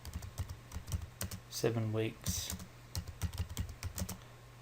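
Light clicking keystrokes on a computer keyboard come in a quick, uneven patter, faint and close, with a voice speaking briefly over them.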